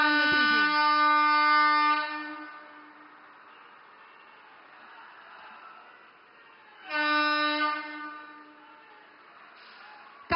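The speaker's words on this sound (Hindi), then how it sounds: "नई दुल्हन की तरह सजी ये रेल अपनी पहली यात्रा के लिए तैयार है।" A newly decorated passenger train on the Kartauli–Ambala service, setting off on its first journey in Punjab, sounds two long horn blasts several seconds apart, with a low rumble of movement between them.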